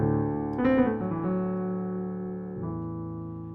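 Piano plays a quick fill with grace notes, a short flurry near the start that resolves into sustained chords and then rings out slowly, close and clear.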